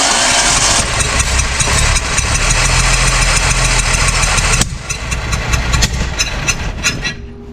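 A 1966 Ford Mustang barn find, sitting for 40 years, runs on ether with a loud, rough, uneven engine note. Partway through, the sound drops abruptly to a lighter, sputtering idle.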